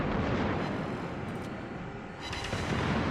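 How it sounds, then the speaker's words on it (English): Main battery guns of the German battleship Anhalt firing in a naval video game, a heavy continuous roar of broadband booms, loud and dense across the whole moment. "And then my main battery opened up at him"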